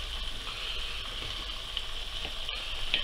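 Ingredients sizzle and fry in a pan of hare stew with wine, a steady close hiss holding throughout with brief stirring noises and no talk.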